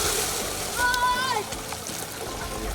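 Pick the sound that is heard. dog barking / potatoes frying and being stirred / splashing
splashing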